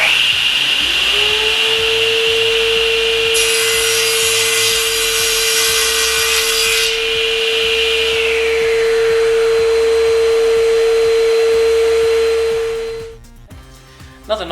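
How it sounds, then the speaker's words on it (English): A SIP CTS10D 10-inch floor-standing circular saw, 230 volt, spins up to a loud steady whine, bites into a workpiece with a harsh burst of cutting noise, runs on, then its motor brake winds it down quickly to a stop. "to stop the saw, to allow the saw to actually stop, and you'll see the motor brake will actually bring it to a stop very quickly"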